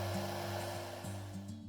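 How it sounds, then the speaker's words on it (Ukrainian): A hair dryer blows heat onto the hotend of a Bambu Lab A1 3D printer, a steady close whirring drone with a stable motor hum lasting the whole moment. "то можна трохи нагріти феном."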